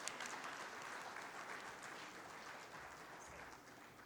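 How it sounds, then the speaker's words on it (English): Steady applause from an audience at a quality institute gathering, a dense wash of many hands clapping at moderate distance, held for several seconds before starting to taper. "Please give him a round of applause"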